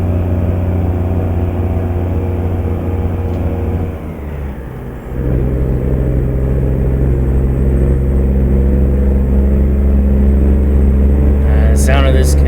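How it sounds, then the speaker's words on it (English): A Kenworth truck engine in American Truck Simulator drones with a loud, deep, steady rumble, dipping briefly before it climbs again. No one talks over it. "The sound of this Kenworth is beautiful."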